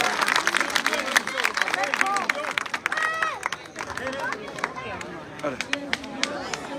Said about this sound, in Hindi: राहुल के लिए जोरदार ताली बजाना आप लोग